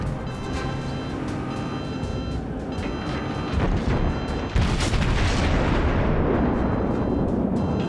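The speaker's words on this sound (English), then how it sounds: "There we go, we dodge his return fire." Naval gunfire in World of Warships aboard the cruiser New Orleans, a continuous loud rumble of booming shots and blasts, swelling into a heavier thundering burst midway and staying dense afterward.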